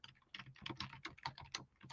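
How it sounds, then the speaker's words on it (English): Rapid typing on a computer keyboard, a quick irregular run of crisp clicks and key taps heard close but at low level, with no voices over it. "I know you guys can hear that typing"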